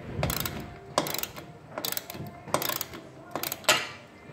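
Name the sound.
ratchet undoing a bolt on garage door track bracket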